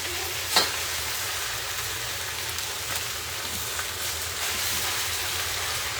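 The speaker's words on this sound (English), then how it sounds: "I'm just going to kind of stir fry this here." Spinach with garlic in hot oil sizzling loudly and continuously in a pan while being stir-fried, with a sharp clink of the spatula early on.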